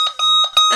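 A Sonic Bomb alarm clock sounds its alarm, a loud, close electronic tone pulsing in rapid uneven bursts with a piercing high-pitched whine running underneath.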